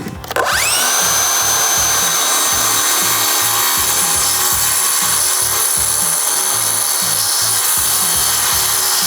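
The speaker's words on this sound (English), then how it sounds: "I've adjusted the blade just for the depth of the plexi, and I'm going to try to do a plunge cut." A power saw plunge cuts into plexiglass on a fishing boat cuddy cabin rebuild: the motor spins up with a rising whine, then a loud, steady rhythmic rasping cut of rapid regular strokes continues close by without talk.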